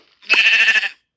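A single loud, wavering sheep bleat from a video game, close and clear, lasting under a second.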